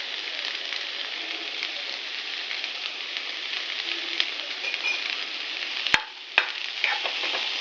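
Cauliflower and green peas sautéing in a pan, a steady soft sizzle throughout with a single sharp clatter near the end, no voices.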